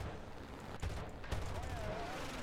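Guns on a Bf 109 K-4 fighter fire in War Thunder in two or three quick bursts, rapid muffled cracks that stand out from a quiet, steady background of engine and game noise.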